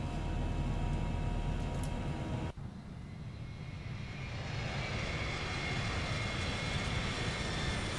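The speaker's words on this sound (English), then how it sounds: "Airplane's climbing out nicely." Boeing 737-900 jet airliner in the X-Plane 11 flight simulator climbing after takeoff, a steady loud engine roar with broadband rush that briefly dips, then continues as a sustained whine-tinged drone.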